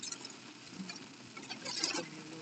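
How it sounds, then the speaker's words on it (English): Hail pelts a car during a storm, a dense irregular patter of small hard impacts on the body and roof, steady throughout and building slightly toward the end, with no voices. "Look at the hailing. I don't know if you guys can hear this, but coming into a storm right now."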